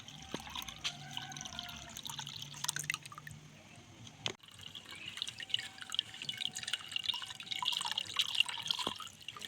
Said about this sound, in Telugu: క్లాత్ పెట్టి వడబోసుకోవాలి